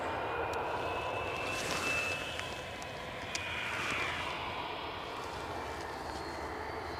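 A steady roar of jet engines from an EasyJet airliner at Edinburgh Airport, heard from a distance. It swells and eases slightly, with a faint high whine running over it and no voices.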